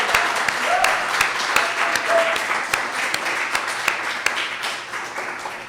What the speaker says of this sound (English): could we just have a round of applause for Jennifer Harris and the other